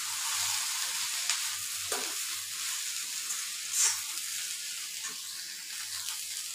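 Food sautéing gently in a pan gives a faint, steady hiss of sizzling oil, with a few soft clinks from stirring, quiet and undisturbed throughout.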